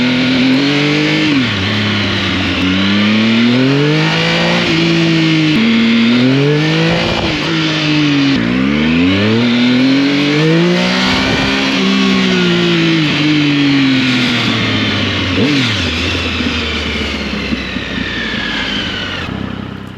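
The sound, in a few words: motorcycle engine revving on test ride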